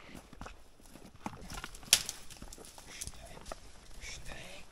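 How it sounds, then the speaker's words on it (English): Donkeys' hooves clop at a slow walking pace on a descent in Copper Canyon, Mexico, soft and a little distant, with quiet voices and outdoor rustling around them. "We set off a little ahead of the donkeys this morning, so they're just catching up with us now."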